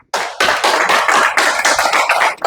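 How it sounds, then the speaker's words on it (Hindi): An audience in a hall applauds for Ajit sir at a leadership seminar, dense sustained clapping from many hands that starts abruptly, stays loud and even for about two seconds, then drops off. "एक बार ताली बजाओ अजीत सर के लिए"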